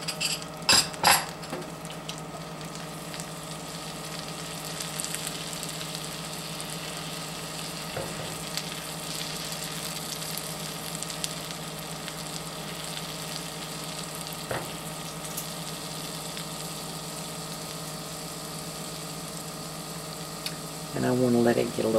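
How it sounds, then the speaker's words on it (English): Two cloves' worth of garlic frying in butter in a hot pan gives a steady, close sizzle that runs throughout, with a few brief clinks of a utensil against the pan. "I'm going to put the equivalent of about 2 cloves of garlic"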